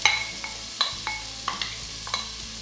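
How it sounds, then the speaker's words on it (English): Onion sizzles steadily in a hot pan while a utensil clinks and scrapes against it in repeated strokes, with no talking. "And you can hear the sizzle. This means that the pan was hot enough."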